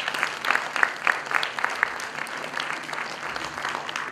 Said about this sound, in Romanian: După clipul puteți să-i aplaudați cu mare drag.